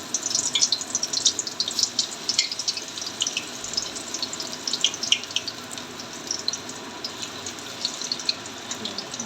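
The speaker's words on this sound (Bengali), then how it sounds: "এবার পকোড়াগুলো আস্তে আস্তে ছাড়তে আরম্ভ করে দিয়েছি গরম তেলের মধ্যে।" Cauliflower pakoras slide into hot oil on a gas stove and fry with a steady, dense crackling sizzle that holds evenly at moderate level throughout, with no voices.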